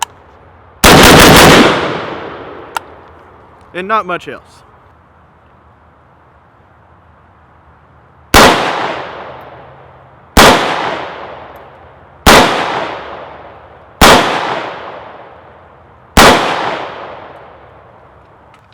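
An AK rifle fitted with a Rifle Dynamics muzzle brake fires sharp, very loud shots at a range: one opening blast, then a brief spoken remark, then five evenly spaced shots, each trailing off in a short echo.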